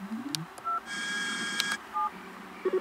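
Knight Rider KITT dashboard replica playing an incoming-call effect: a string of electronic beeps and tone blips, a longer buzzy chime in the middle, then rapid short beeps at the end, fairly faint.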